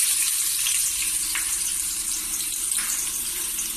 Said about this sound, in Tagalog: Magigisa na tayo. Unahin natin itong maninipis na luya.